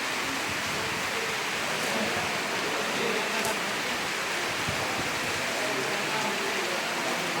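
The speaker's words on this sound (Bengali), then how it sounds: "চারিদিকে ঝড়ো বৃষ্টি।" Stormy rain pours in a dense, continuous hiss, steady and enveloping with faint scattered patters and no voices.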